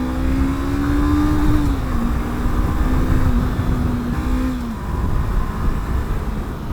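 A 2016 Honda CB500F motorcycle engine climbs through a couple of gears, a steady droning tone rising in pitch, dropping briefly at each shift, then rising again, loud and close with wind and road noise underneath.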